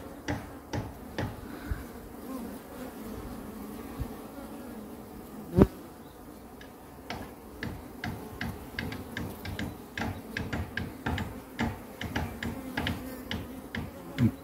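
Bees buzzing around a top-bar hive outdoors by a reservoir, a steady insect drone with frequent close, sharp flybys and ticking passes, one louder burst near the middle, no talking.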